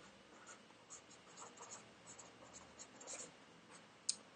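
Marker tip scratching and squeaking across a giant Post-it note on a wall, soft irregular strokes close by, ending with one sharp tap.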